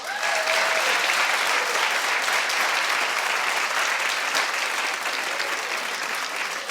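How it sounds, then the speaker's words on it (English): A studio audience on a daytime talk show claps loudly and steadily, a dense continuous wash of applause with scattered whoops and voices mixed in. "now clap if you like that idea better"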